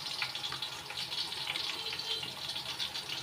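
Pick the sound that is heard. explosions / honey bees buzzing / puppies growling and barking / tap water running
tap water running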